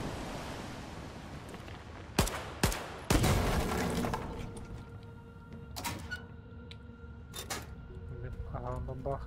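Gunfire rings out in the video game S.T.A.L.K.E.R. 2: a few sharp, loud single shots spaced a second or two apart, followed by later scattered reports and a short rapid burst over a background rumble.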